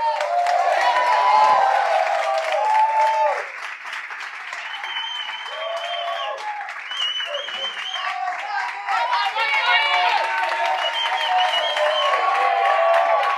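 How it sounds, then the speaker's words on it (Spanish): An audience applauding and cheering for Jimmy Jairala, dense clapping with whoops and shouts rising and falling, continuous and fairly near for the whole stretch. "para el que pido un aplauso."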